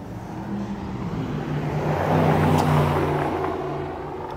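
Supercars arriving and passing by on a road, engines swelling from a distant hum to a louder rumble as they approach, then easing slightly, heard outdoors without talk.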